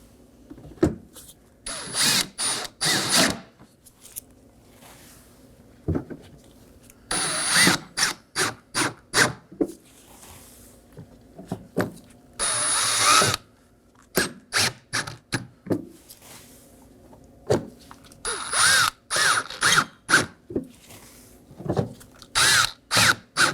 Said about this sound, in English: Now for our 5 T15 Torx screws. I'll just be snugging these down.